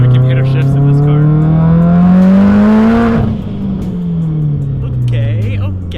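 A fast turbocharged car accelerates hard with a loud rising engine whine, then drops pitch at a gear shift around midway and climbs again, close and dominant throughout.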